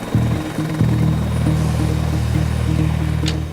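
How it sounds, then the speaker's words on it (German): A rescue helicopter lifts off, its rotor beating in a loud, steady low thrum with a pulsing rhythm that holds close and continuous throughout, crew aboard for an emergency call. "Der Helikopter ist nach ein paar Minuten in der Luft mit dem Pilot, dem Notarzt und dem Benji, einem Rettungssanitäter."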